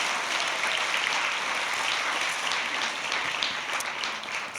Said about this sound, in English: Please get an applause.